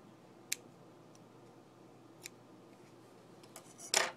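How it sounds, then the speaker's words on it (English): A few quiet, sharp snips of scissors cutting yarn tails on a crocheted bracelet, spaced apart, ending in a louder double snip, in an otherwise quiet room. "pick up your scissors, and cut off your tails"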